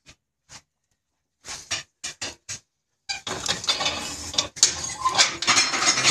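A metal ash pan of a wood stove is handled and drawn open, giving a few sparse clinks and scrapes followed by a denser stretch of rattling, scraping metal up close.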